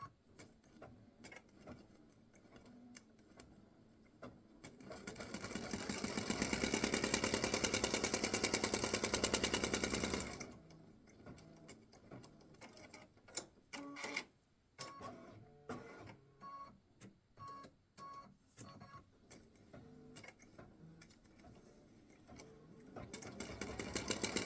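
An embroidery machine stitches the word Dad onto a Father's Day greeting card, a loud rapid mechanical whirr for several seconds, then shorter bursts of fast stitching separated by brief pauses, close by with no talk.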